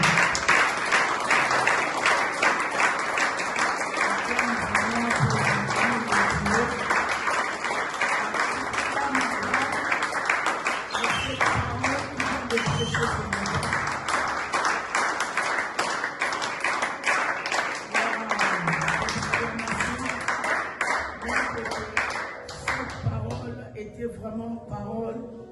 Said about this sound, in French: Si réellement tu es béni, tu acclames pour le roi des rois.